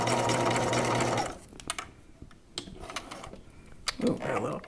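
A sewing machine stitches a gown in a steady, loud run for over a second, then stops, leaving short clicks, handling noises and a brief voice-like murmur.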